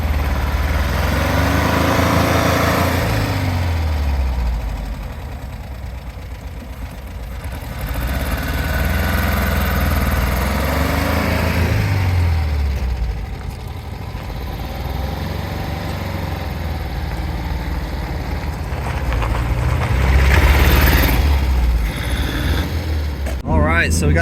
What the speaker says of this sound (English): we're trying to set the rings right now, rev it up and down